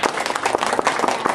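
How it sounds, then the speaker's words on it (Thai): Dense, steady applause from an audience at a presentation seminar, many hands clapping at once, loud and continuous with no voices over it. "ขอเสียงปรบมือให้คุณอ๊อฟทัพพัน"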